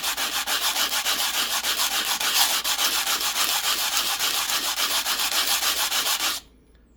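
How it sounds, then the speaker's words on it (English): An Irish penny is sanded by hand while being made into a bell. Fast, even back-and-forth rubbing strokes sound close and steady for about six seconds, then stop abruptly. "Give it a quick sand."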